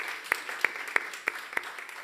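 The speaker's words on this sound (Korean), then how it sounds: "우리 미디어 팀을 위해서 우리 박수로 한번 격려할게요" Sparse applause from a church congregation at a Sunday worship service, a soft background patter punctuated by five louder, evenly spaced claps close by.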